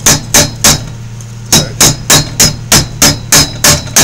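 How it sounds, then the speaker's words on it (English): A hammer strikes metal held against a pole beside a vise, cold-forming a curve, with about eleven sharp ringing blows that come loud and close in a fairly steady rhythm after one short pause. "I can use the hammer and the pole and put me a cylindrical surface in it"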